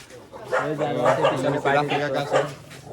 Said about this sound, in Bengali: এই কুকুর আইতাছে ভাই